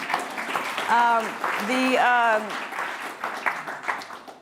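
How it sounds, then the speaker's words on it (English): An audience at a book prize event at Zócalo applauds, a steady wash of clapping running under a person who talks and sings clearly over it, the clapping rising and thinning toward the end. "Yes, another round of applause, please"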